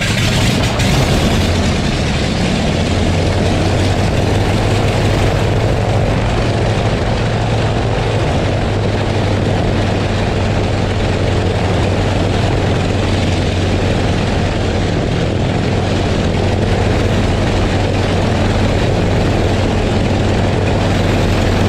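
An old propeller airplane engine runs with a heavy, loud, continuous drone and a deep rumble that holds steady for the whole stretch, with no voices.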